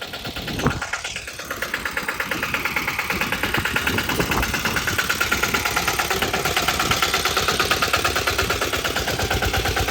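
Tractor engine running in a muddy field during sowing season after rain, a loud, steady rhythmic diesel chug that settles into an even throb close by.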